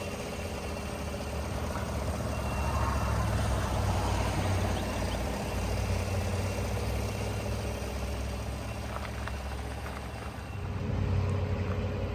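A 2015 Chevrolet Silverado Crew 4x4 LTZ with a 5.3 liter engine and 148k miles idling, a smooth steady low drone that holds even throughout and swells slightly near the end.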